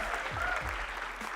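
A studio audience at a TV talent show gives brief applause for a band, a short burst of clapping with a voice faintly underneath.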